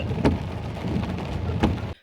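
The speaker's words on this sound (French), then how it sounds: "Il pleut." Rain falls at night as a steady, dense hiss with a couple of brief louder spatters, close and continuous until it cuts off abruptly.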